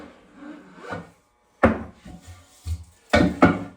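Emulsion being scraped out of a screen-printing coating trough, giving short rasping scrapes in separate bursts, the later strokes louder and sharper, with brief pauses between them and no talk.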